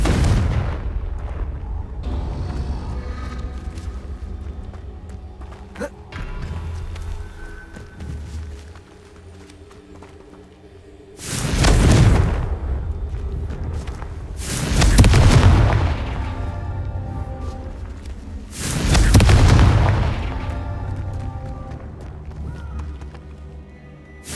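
Confringo spell explosions from the game Hogwarts Legacy: three heavy booming blasts in a row, loud and deep, over a steady rumbling game background.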